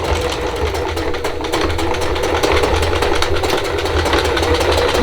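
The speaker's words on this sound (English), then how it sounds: "I'm going to stitch across it." A sewing machine zigzag stitches across rope for a Dollar Tree rope bowl, a rapid, even mechanical chatter running continuously and loud at close range, with no one talking.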